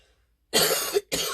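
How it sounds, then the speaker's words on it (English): Two quick, harsh coughs close to the microphone, caused by incense smoke, the first longer, separated by a brief pause, in an otherwise quiet room. "it's the incense that's making me cough"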